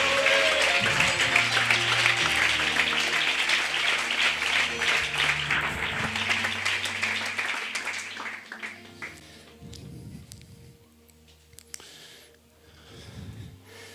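Church congregation applauds in a steady burst that fades out over several seconds, leaving quieter room noise and breathing near the mic.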